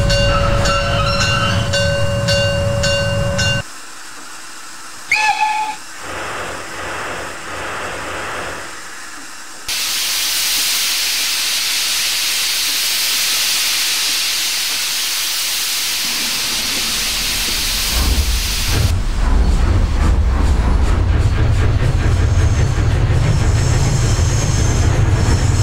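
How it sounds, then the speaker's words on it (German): A Br 95 steam locomotive in Train Simulator 2015 pulling away and gathering speed, with loud continuous steam hiss and rumbling chuffs, shifting in character through the run and near throughout, no voices. "Die Lok hat es ganz schön drauf, die beschleunigt auch richtig schön"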